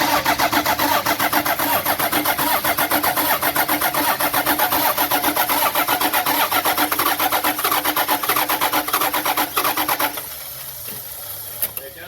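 A Toyota 60 series with a 2H diesel engine cranks with a loud, rapid, steady churning for about ten seconds, then drops to a rougher, quieter stutter as it tries to catch.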